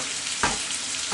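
Bacon frying in a pan, a steady close sizzle and crackle with a brief louder burst of spitting grease, no voices.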